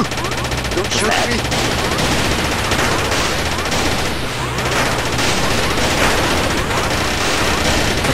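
Rapid gunfire crackles nonstop through a round of the 2D multiplayer shooter Gang Garrison 2, dense and loud with overlapping shots and bursts, while someone talks over the din.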